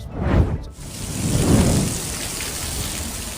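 Heavy rain pours in a New York storm, a dense loud roar of falling water with deep rolling thunder swelling near the start and again around the middle, no voices.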